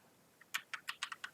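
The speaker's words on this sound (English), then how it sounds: "I'm now typing a bunch of extra things on my keyboard." Quick, light keyboard clicks, about eight keystrokes in a rapid, uneven burst, close and quiet.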